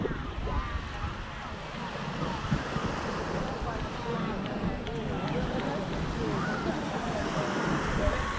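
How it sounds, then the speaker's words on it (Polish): Surf rolls continuously onto sandy Kalamaki beach on Zakynthos, a steady wash of breaking waves mixed with gusty wind noise on the microphone. "Piękna, piaszczysta plaża. Kalamaki."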